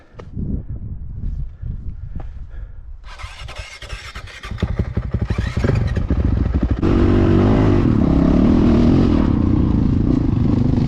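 Honda CRF450X dirt bike on a hill climb: quiet rumble and clatter at first, then the engine fires up and revs hard, building to a loud, sustained close-up roar.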